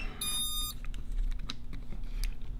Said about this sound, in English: you hear the beeping, so now it's ready to arm